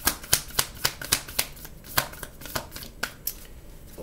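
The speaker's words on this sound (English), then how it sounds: "my hands, y'all can tell they have not shuffled in a while" A deck of tarot cards is shuffled by hand in a steady run of sharp, snapping riffles about every quarter second, close up and fairly quiet, with no voice over it.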